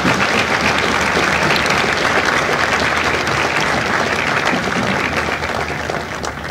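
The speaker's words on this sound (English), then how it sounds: "please join me in a well-deserved round of applause for the drill instructors and families of Charlie County" A large audience applauds steadily at a Marine Corps Recruit Depot San Diego recruit graduation ceremony, honoring drill instructors and families; dense, sustained clapping fills the space at full volume, tapering slightly near the end.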